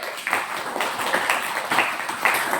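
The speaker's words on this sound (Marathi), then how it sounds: "सर्वांनी त्यांच्यासाठी जोरदार टाळ्या वाजवा" Brief burst of clapping from a gathered audience honouring lay donors at a Buddhist novice training camp, uneven hand claps at moderate volume over a couple of seconds.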